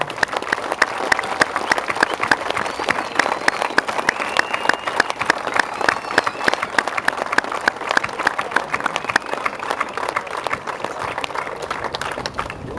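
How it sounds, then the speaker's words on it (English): A crowd at a tribute to racers Travis and Jimmy applauds warmly and continuously, close and even, with scattered voices and cheers mixed into the steady clapping. "give a warm round of applause for the families and friends and racers and the memories of Travis and Jimmy"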